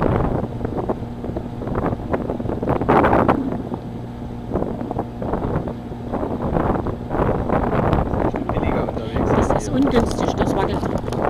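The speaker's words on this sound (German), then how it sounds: "Der Wind." Wind buffeting a microphone aboard a boat, a loud rough rumble with gusty swells throughout, while people talk over it.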